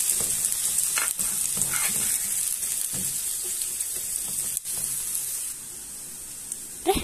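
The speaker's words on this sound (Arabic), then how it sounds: "راح نقلب البصل لحد ما يذبل عنا" Chopped onions fry in olive oil on a gas stove, a steady loud sizzle throughout with occasional scraping stirs, and no one speaking.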